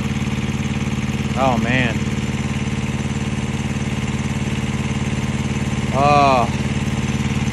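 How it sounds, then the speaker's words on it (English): A truck APU with its compressor kicking in hums as a steady, smooth-running engine drone throughout, near and constant, while a man briefly exclaims twice over it. "There it is, that compressor's kicking in now. She's still running smooth."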